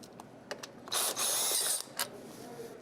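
A bolt on a transmission pan being worked loose with a ratchet, giving a few quick clicks and then a dense burst of metallic ratcheting and scraping about a second long, close and fairly quiet with no talking.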